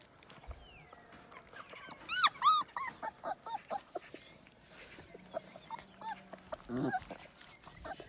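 A dog whimpering and yipping close by in a run of short, high, rising whines, with some light rustling and a faint voice in the background.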